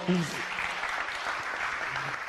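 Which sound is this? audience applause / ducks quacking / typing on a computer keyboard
audience applause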